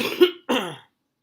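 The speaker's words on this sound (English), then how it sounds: "excuse me for coughing" A man coughs twice up close, two short harsh bursts separated by a brief pause, then silence.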